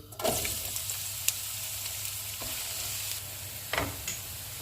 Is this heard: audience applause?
no